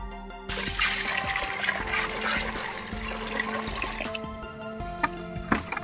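Tap water runs and splashes over raw chicken pieces being washed for broasted KFC-style chicken, a steady close gush with trickling and dripping, and a few clunks near the end.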